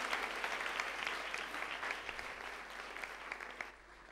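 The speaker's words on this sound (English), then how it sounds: "come on, give them a hand of applause." A church congregation claps together at a spiritual birthday celebration service, a steady, dense patter of many hands that holds for several seconds, then thins and softens toward the end.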